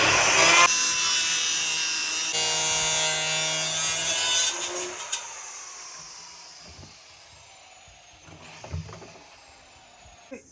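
A plastic drum being cut in two by a power saw, a loud continuous high whine that fades and winds down after about five seconds, followed by quieter scraping and a few handling knocks.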